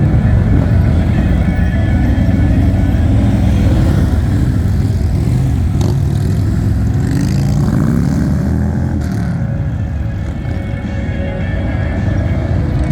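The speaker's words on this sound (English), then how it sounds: "these are full-blown Harleys" Full-size Harley-Davidson motorcycles ride past during a precision riding demonstration, giving a loud, continuous, rumbling engine roar that swells and shifts as the bikes pass close by.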